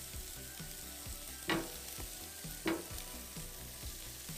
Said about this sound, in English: Alright, got some of this meat on the grill, on the charcoal.